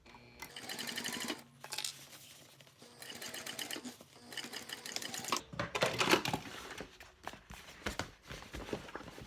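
A sewing machine runs in steady bursts of rapid, even stitching on a cork convertible clutch, pausing briefly between runs, close and clear with no voices.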